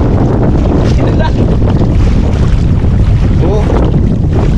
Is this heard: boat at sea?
yes